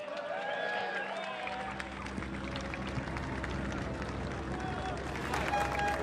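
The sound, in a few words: applause for the Sauber F1 team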